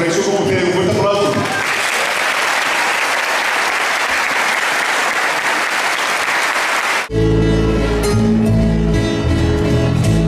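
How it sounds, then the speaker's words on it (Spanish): Audience applause for a parish church choir and its director at a centennial music celebration in Kissimmee, Florida: steady, dense clapping that fills the room for about seven seconds, then gives way to music as the clapping continues underneath. "un fuerte aplauso"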